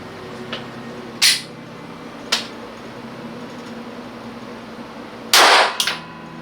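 A Taurus G3 9mm pistol with a compensated barrel fires Blazer 115-grain rounds at a range: three sharp, fairly loud shots, two spaced singles and then a heavier blast with a short ringing tail, alone without talk.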